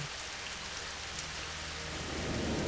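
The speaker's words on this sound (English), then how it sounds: "Clear skies could turn into a torrential rainstorm." Heavy torrential rain pours steadily in a dense, loud hiss with a low rumble of thunder beneath, swelling slightly toward the end.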